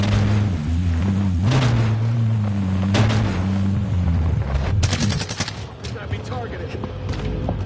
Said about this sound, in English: Guys, shots right here.